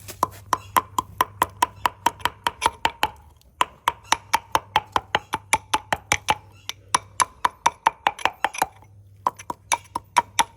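Tablets for a home mastitis remedy for cattle are pounded with rapid, evenly spaced sharp knocks in three bursts separated by short pauses, loud and close, with a faint steady hum underneath.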